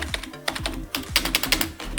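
Keys on a SteelSeries Apex 3 gaming keyboard clatter in quick, uneven bursts of soft clicks, close up and fairly quiet, with no talking.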